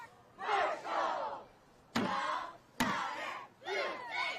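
Cheer team chanting in unison at a 2023 cheer championship, leading the crowd with a routine; loud shouted bursts come in rhythmic waves with brief pauses and sharp claps or stomps between them.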